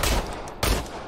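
Bursts of gunfire in the sci-fi shooter game Industria, two loud broadband volleys separated by a brief lull, with no talking.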